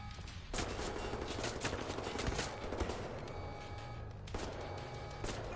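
Sustained gunfire rattles through a Wolfenstein: The New Order firefight, a dense continuous barrage with short gaps and fresh bursts near the start and again toward the end.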